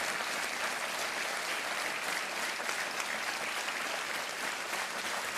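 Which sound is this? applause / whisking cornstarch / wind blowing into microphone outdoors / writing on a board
applause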